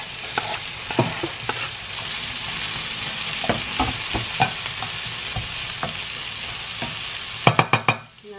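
Mushrooms fry in a pan, giving a steady hiss of sizzling broken by repeated clicks and scrapes of stirring, with a burst of louder scraping knocks at the end.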